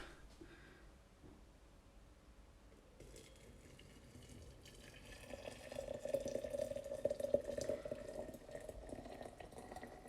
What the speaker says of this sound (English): So I'm filling this with hot water.